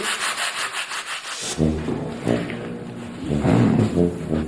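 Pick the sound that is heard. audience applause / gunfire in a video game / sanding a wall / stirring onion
sanding a wall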